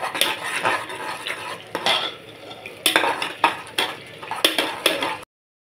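Homemade ginger-garlic paste is sautéed in a pan for soya biriyani, with a spoon scraping and clanking against the metal in irregular strokes over a soft background sizzle, close and without talk.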